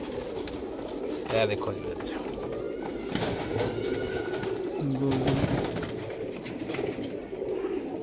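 Golden pigeons cooing in a loft, soft low coos scattered through steady background murmur, with someone speaking briefly over them.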